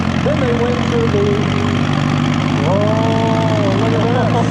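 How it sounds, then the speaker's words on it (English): A Minneapolis Moline G1355 tractor idles at a county fair tractor pull, a steady low engine rumble running throughout, with people talking over it. "Pretty rare tractor."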